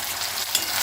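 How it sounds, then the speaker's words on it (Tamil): Taro root (colocasia) pieces fry in oil with a brief, even hiss of close sizzling and no voices. "இந்த சேப்பங்கிழங்க முதல்ல எண்ணெயில் போட்டு நல்லா வதக்கி வச்சுக்கலாம்"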